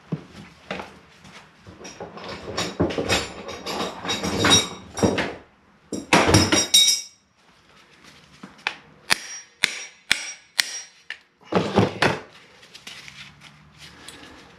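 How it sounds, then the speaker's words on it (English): Hammering out a dent on the sliding door of a 2008 Honda Odyssey, heard as irregular metallic taps and bursts of rapid knocking with pauses, up close. "So, probably just gonna hammer that out."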